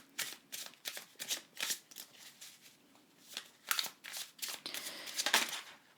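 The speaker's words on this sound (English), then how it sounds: "I'm still shuffling" Tarot cards are shuffled in quick, soft, papery riffles and flicks that arrive in uneven bursts for several seconds, fairly quiet and close, with no voice.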